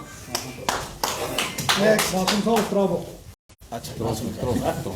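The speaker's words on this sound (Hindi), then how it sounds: "जोरदार तालियों से" An audience at a ceremony claps in an uneven, crowded burst that stops for a moment and then resumes, and someone talks over the clapping.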